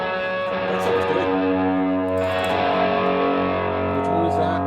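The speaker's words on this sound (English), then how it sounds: "Spring with tape. Tape echo." Electric guitar played through a budget effects pedal set to spring reverb with tape echo, a sustained distorted chord ringing out with repeating echoes, loud and close, while people talk over it.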